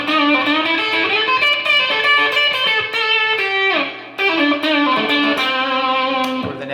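An electric guitar in the bridge position with a Seymour Duncan Pearly Gates humbucker plays through a small tweed amp with fuzz, delay and spring reverb: loud, sustained distorted chords and notes with a brief drop before ringing on.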